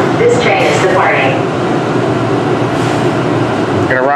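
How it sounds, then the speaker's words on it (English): Atlanta Airport Plane Train, an underground automated people mover, pulling out of a station with a steady, loud rolling rumble and hum that fills the whole stretch, while voices speak over it. "Welcome aboard the full train. Please hold on. This train is departing."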